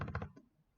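A brief burst of several quick computer keyboard keystrokes close by, followed by a short pause and one more key tap.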